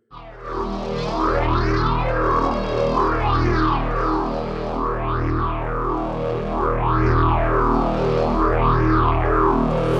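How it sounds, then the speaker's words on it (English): A sustained tone through a Behringer 172 phase shifter with no feedback, modulated by an LFO: a steady sweep rising and falling in regular waves, smooth and even without resonant whistling. "So this is no feedback on the phaser, and it's just being modulated by the LFO."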